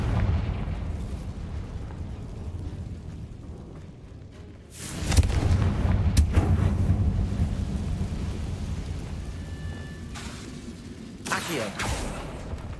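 A fire spell blast in the video game Hogwarts Legacy erupts into a loud booming explosion with a lingering rumbling roar, followed by further sharp crackling bursts.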